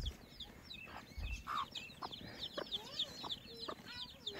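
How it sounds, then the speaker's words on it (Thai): Chickens cluck around a Hmong family home, with short clucks and calls scattered over several seconds, along with higher bird chirps and a steady outdoor background. "มีเป็ดมีไก่นำ"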